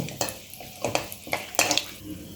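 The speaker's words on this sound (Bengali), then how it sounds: "দশ থেকে পনেরো সেকেন্ড ফোড়নগুলো ভেজে নেব" Panch phoron, a bay leaf and two dried chillies fry briefly in hot oil, a soft crackle broken by several quick stirring clicks and scrapes of the spoon against the pan.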